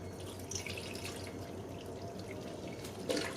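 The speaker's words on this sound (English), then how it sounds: "So we're going to go ahead and add some of the beef broth." Beef broth pours steadily into a crock pot, a quiet continuous trickle and splash nearby, with a slightly louder gush near the end.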